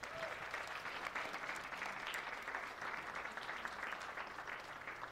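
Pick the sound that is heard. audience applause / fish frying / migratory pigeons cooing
audience applause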